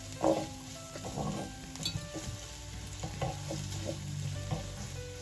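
Mustard is stirred into a honey sauce with Maultaschen in a pan. Soft sizzling sits under intermittent scraping and light knocks of the spoon, fairly quiet and close, with no talk.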